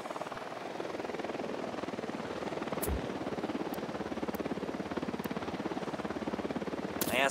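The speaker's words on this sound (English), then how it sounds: "Eyes on the target. UNIDAD chopper, stay low." A UNIDAD faction helicopter in Ghost Recon Wildlands thuds with steady, rapid rotor chops at close range, a sustained engine drone under it and a few sharp clicks near the end.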